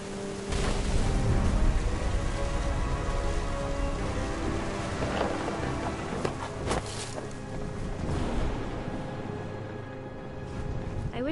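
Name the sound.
rain and thunder in video game What Remains of Edith Finch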